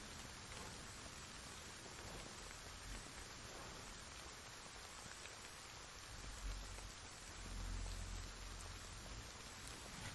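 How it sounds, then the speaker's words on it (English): Heavy storm rain in the video game Kingdom Two Crowns, a continuous dense hiss of falling rain with a soft low rumble rising briefly near the end, steady and unbroken with no voices. "Never seen like a heavy storm like this."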